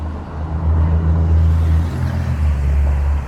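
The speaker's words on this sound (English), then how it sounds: "the pavement's shaking when the cars go by" Cars pass on a wet city street in Philadelphia, producing a loud, steady low rumble of traffic with a swelling pass-by, close to the listener and without speech.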